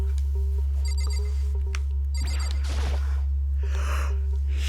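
A phone rings in short repeated electronic bursts, a tinny trilling pattern over a loud steady low hum, with breathy gasp-like noises in between.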